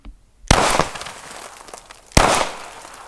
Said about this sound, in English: let's shoot some fruit